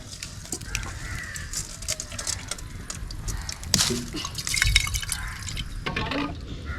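A pot of navara rice porridge in medicinal herb water bubbles gently, with soft irregular blips and plops over a low simmering hiss, close by.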